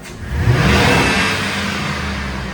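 A 2000–2006 Chevrolet Tahoe suffering power loss and low fuel pressure revs as the throttle is floored: a loud, close engine roar that surges quickly, then holds at a steady high drone.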